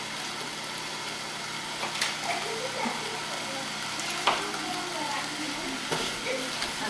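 Butter melting in a hot pan, a soft continuous sizzle with a few sharp clicks and clanks of utensils nearby, fairly quiet and steady.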